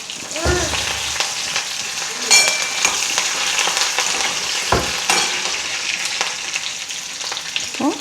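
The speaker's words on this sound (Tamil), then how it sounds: "மிளகா நல்லா எண்ணெயில் பொரிஞ்சதுன்னா சூப்பர் டேஸ்ட்டாக இருக்கும்" Chillies and curry leaves frying in hot oil for a tamarind okra curry give off a steady, close crackling sizzle, with a few sharper pops and spoon scrapes against the pan.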